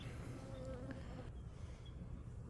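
Honeybee buzzing right at the face near an open hive, a continuous close whine hovering over a low background hum.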